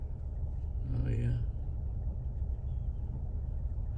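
Low steady engine rumble from a truck idling near a flock of wild turkeys outdoors, a constant droning hum with a brief higher-pitched burst partway through.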